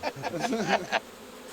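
Bees buzz around a hive on a city balcony in Ivry, several short, close, moderately loud swells of buzzing that rise and fade over about a second and a half.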